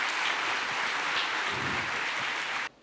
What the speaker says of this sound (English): Can we have a big round of applause for these 10 people?